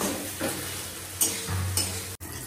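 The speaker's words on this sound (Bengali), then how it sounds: "এই যে এখানে বেগুন ভাজা চাপালাম" Eggplant slices frying in a pan in a home kitchen, a steady close sizzle with soft stirring scrapes and a couple of brief utensil clicks, no talking.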